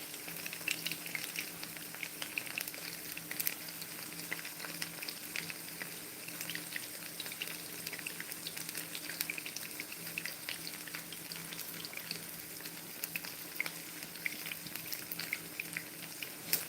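Chicken pieces frying in a pan for chicken Alfredo, a steady dense sizzle with faint crackles running continuously and evenly, close and moderately loud, with no talking.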